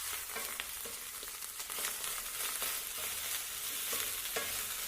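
Chicken fried rice with chopped coriander is stirred in a pan, a steady frying sizzle broken by repeated scraping strokes of the spoon against the metal, close and continuous.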